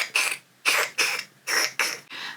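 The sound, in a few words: crochet hook squeaking while crocheting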